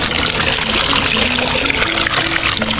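Water pumped out in a strong, steady gush to fill chickens' drinking supply, close and continuous with a faint hum underneath and no talking.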